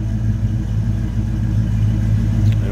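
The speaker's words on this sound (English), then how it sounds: "Nice sounding truck." A 1953 Chevrolet 3100 pickup street rod with a 5.3 V8 idles close by, a steady, loud, low rumble with an even throb and no talk over it.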